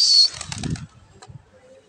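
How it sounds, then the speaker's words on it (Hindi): Released pigeons take off in a short burst of wing flapping, loud and close at first, then fading into quieter fluttering and scattered background sounds. "वहाँ पे भी कबूतर खोल दिए और सैदी भी खोल रहा है"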